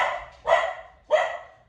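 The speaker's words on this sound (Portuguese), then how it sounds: "Meus cachorros, cara, quando não é o cachorro do vizinho, são os meus cachorros." A dog barks twice, sharp and fairly close, with a short pause between the two barks and nothing else around them.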